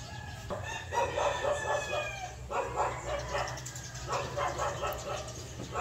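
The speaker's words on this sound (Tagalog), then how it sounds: "Parang may sisiw." Repeated high chirping calls, taken to be a chick peeping, sound at moderate distance in a home setting, in short bursts with brief pauses, with faint voices in the background.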